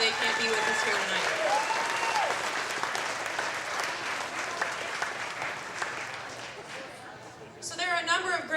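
An audience claps steadily for several seconds at a Santa Barbara Navy League evening event, dense applause that slowly thins, with a voice speaking over the clapping near the end.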